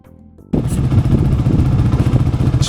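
Dirt motorcycle starting up and riding an old logging road by Dakota Creek, a sudden loud engine roar that holds with rough, revving pulses close by.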